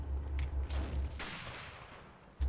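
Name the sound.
friendly machine gun fire in the video game WW2 Online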